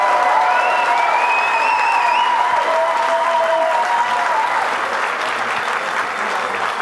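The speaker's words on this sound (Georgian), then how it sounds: "დაიმსახურეს მათ ეს ოვაციები" Sustained, loud applause and ovation from a crowd at a fight event after a hard-fought bout. Whistles and cheers rise over the steady clapping, which fades slightly toward the end.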